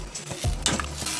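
Spoon stirring a stew of nopales and chickpeas in a pot, a few scraping swirls over a soft bubbling, close and fairly loud with no voices.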